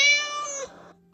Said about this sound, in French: Quand le chat veut quelque chose, il miaule.